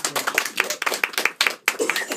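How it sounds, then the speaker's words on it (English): An audience at a Sunday brunch magic show at the Magic Castle applauds, with a steady patter of claps filling the short stretch, loud and close, briefly dipping before resuming. "So give them a round of applause."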